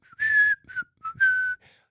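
A person whistles into a microphone, giving a few short, clear, close tones in a quick rising-and-falling pattern, alone without talk.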